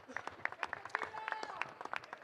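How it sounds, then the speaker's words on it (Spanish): A crowd applauds to welcome a visiting boxer, dense clapping heard at a moderate distance and fairly faint, with a few voices mixed in. "Aplauso al Terrible."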